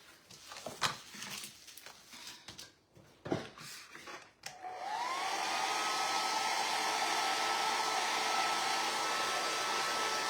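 A hair dryer switches on after some soft handling and tapping and then blows continuously with a steady, loud whooshing whine while drying a painted butterfly.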